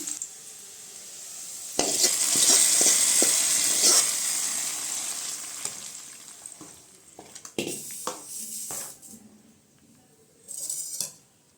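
Fried-onion tempering being stirred into mochai and radish kuzhambu in a pan, with a loud burst of sizzling, scraping and clinking of a utensil against the pot, then quieter intermittent stirring knocks and a final short sizzle.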